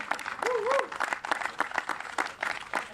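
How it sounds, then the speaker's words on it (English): Audience applause for state representatives at a bill signing by the mayor on Oʻahu, a brief burst of clapping mixed with voices. "let's give them a round of applause."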